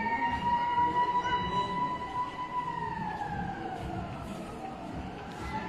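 A fire truck siren, responding to a house fire, wails steadily in the distance, its pitch slowly falling, over a dense rumble of traffic and crowd noise.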